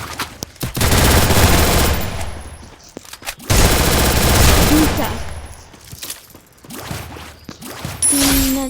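Automatic gunfire in the Free Fire mobile game, long loud sustained fusillades broken by short gaps, with a voice speaking faintly in between.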